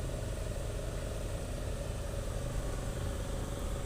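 An Isuzu truck engine idles nearby with a steady, low, vibrating rumble that stays even throughout.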